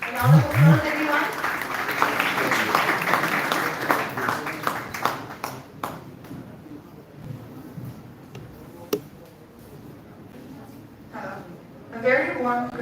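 An audience at a medical college competition event applauds a contestant, with a burst of clapping that swells after a brief voice and then thins into scattered claps. Speech returns at the end.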